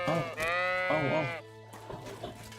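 Goat in the video game Kingdom Come: Deliverance II gives a long wavering bleat, then a second shorter bleat after a pause, close and clear over a low steady background hum.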